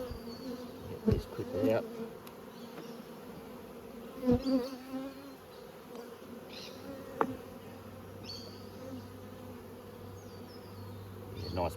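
Honeybees buzz steadily around frames being moved from a five-frame nucleus hive into a nine-frame super at an outdoor apiary, with a soft continuous hum, a few louder close passes and brief handling knocks, and a short spoken remark.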